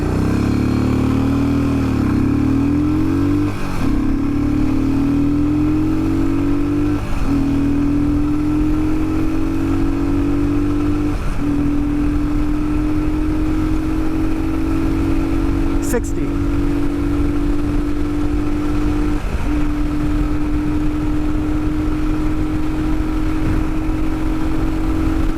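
A Royal Enfield Himalayan motorcycle with airbox upgrades accelerates hard onto a highway toward 6,000 RPM, a loud continuous engine drone rising in pitch through several gear shifts, with brief dips between gears.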